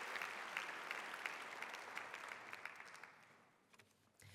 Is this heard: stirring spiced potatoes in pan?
no